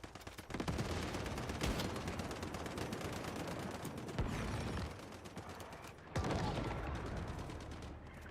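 Sustained automatic gunfire in a Once Human boss fight, dense rapid volleys with a few sharp louder bursts, loud and continuous with no talking.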